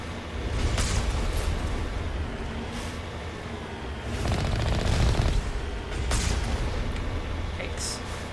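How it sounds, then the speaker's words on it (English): Gunfire in the Mass Effect Legendary Edition video game near a Cerberus base: repeated bursts of shots and impacts in uneven clusters, loud and close, with brief gaps between volleys. "And really good shooting at me too."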